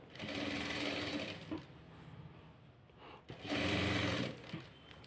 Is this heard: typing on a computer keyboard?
no